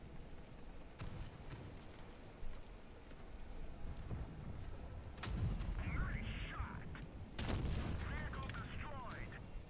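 Tank cannon shots boom in World of Tanks Blitz, several heavy blasts amid game noise, with someone talking over the action.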